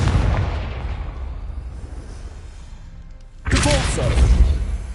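A Confringo spell explodes in Hogwarts Legacy with a sudden, loud, close blast that cuts into quieter game ambience and a fading rumble, then a burst of crackling debris rings on afterward.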